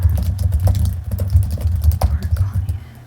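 Typing on a computer keyboard during a calm therapy-style session, a close, soft, steady patter of key presses with a few louder taps, no speech over it.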